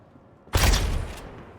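A shotgun blast fires once in the video game Star Citizen, hitting abruptly as a loud, close boom that then rings out and decays over about a second.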